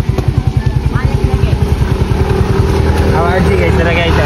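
A motorcycle engine runs close by with a loud, rhythmic chugging pulse, while people talk over it.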